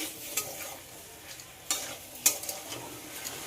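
Fried potatoes and pointed gourd are stirred into a spice paste in a hot pan, sizzling softly under a few sharp scrapes and clinks of the spatula, close by.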